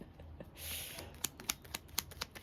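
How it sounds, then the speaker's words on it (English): Tarot cards being shuffled by hand, a soft riffle followed by a series of sharp, close card snaps and taps, quiet and alone. "Let me shuffle real quick."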